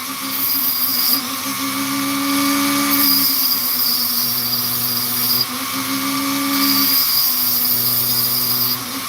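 A small power tool cuts and grinds an opal stone in a steady high-pitched whine that shifts slightly in pitch as it bites, loud and close and running without pause, with no talk.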